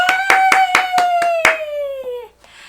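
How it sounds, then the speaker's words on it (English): Handclaps at a children's picture-book read-aloud: about six steady, evenly spaced claps under a long, gradually falling voiced tone, fading out near the end. "let's give it a round of applause"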